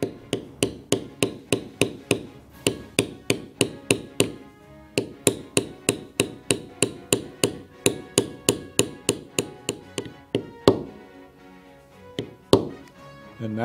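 Steady rapid tapping of a mallet on a leather beveling stamp while tooling a circle basket-stamp pattern, dozens of sharp close knocks in an even rhythm, pausing briefly near the end, no talk.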